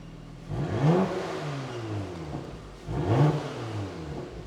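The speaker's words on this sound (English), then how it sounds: "That's quite a fruity exhaust. So that's it with the flaps open." A Porsche Macan GTS 2.9 revs twice with its exhaust valve flaps open, each a rising, throaty roar that falls back to a rumbling idle between bursts.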